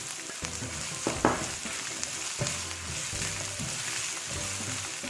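Green chilies and capsicum sauté in a hot pan with a steady close sizzle, broken by a few soft clinks and scrapes of stirring, and no one speaking.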